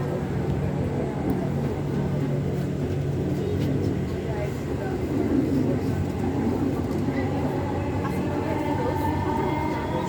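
Dhaka metro train running between Agargaon and Bijoy Sarani stations, bound for Motijheel, with a steady loud rumble and rail roar throughout the whole stretch; it is heard from inside the car.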